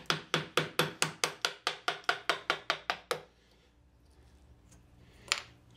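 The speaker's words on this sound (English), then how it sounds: "I'm going to take a Lee Nielsen chisel." Wood being chopped out with a Lie-Nielsen chisel and mallet: a rapid, regular run of about fourteen sharp taps, then quiet scraping and one last tap near the end.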